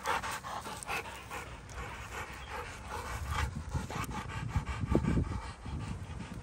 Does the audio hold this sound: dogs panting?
yes